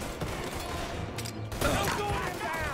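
Pistol shots in the video game Mafia, a few sharp cracks amid a busy, noisy scene at moderate loudness, with voices present.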